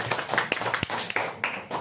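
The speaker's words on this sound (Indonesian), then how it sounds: "tepuk tangan untuk semangat kita" Brief clapping from an audience at an Indonesian government inspectorate meeting, a short burst of scattered hand claps heard up close.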